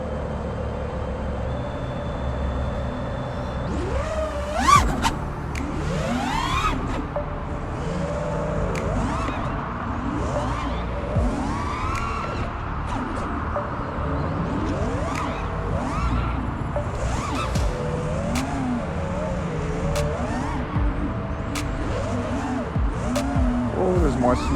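Regular 5-inch ImpulseRC Apex FPV racing drone flying over snow, a continuous buzzing motor whine with rapid pitch sweeps and swoops as the throttle rises and falls, steady and fairly loud throughout.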